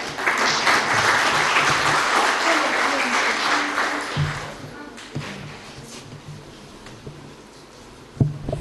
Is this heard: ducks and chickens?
no